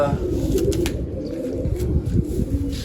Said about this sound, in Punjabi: ਆਪਾਂ ਤੁਹਾਨੂੰ ਕਬੂਤਰ ਵਿਖਾਈ ਜਾਂਦੇ ਵੱਡੇ ਕਬੂਤਰ